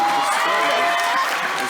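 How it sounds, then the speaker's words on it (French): Audience at an outdoor neighbourhood festival in Kourou applauds and cheers the winning dance group, a dense, steady crowd roar with voices mixed in throughout. "Vous pouvez les applaudir."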